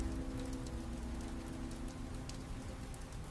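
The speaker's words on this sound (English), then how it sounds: "Rain tapped against the back door" Rain taps against a back door in a steady, even patter, a soft continuous hiss of drops with a faint low hum underneath and no voices.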